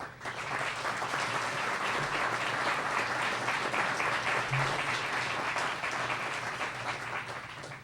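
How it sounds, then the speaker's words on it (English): Sustained audience applause at an interfaith event, dense and steady throughout with no speech over it, tapering slightly at the very end. "Drew Sampson worked enormous amount of time, so please give them an applause."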